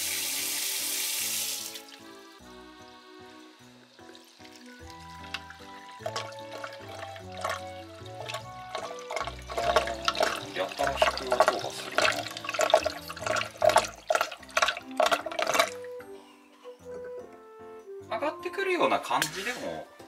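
Water runs from a tap into a sink and down the drain, a steady splashing stream that grows and fades, under quiet conversation between people.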